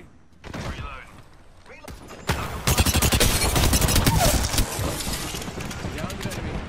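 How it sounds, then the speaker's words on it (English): Video game gunfire, a quiet start giving way to loud, rapid volleys from about two seconds on, dense and close, with a voice talking over part of it. "Shots fired and they're hitting me"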